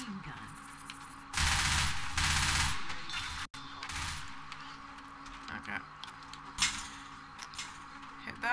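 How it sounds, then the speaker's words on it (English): Machine gun firing in Left 4 Dead 2 in a swamp setting, loud sustained bursts of rapid fire with a brief break, followed by scattered softer shots and thuds. "Machine gun."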